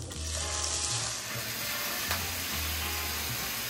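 Shredded beef with onion and enchilada sauce sizzles steadily in an oiled pan over lowered heat, a continuous close frying hiss with a faint low hum beneath and no talk.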